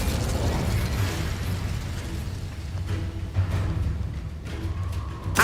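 Fire and blasting spells, Incendio and Confringo, cast in Hogwarts Legacy: rumbling whooshes and mechanical clanks with sharp pops and a burst at the end, loud over a dense game soundscape.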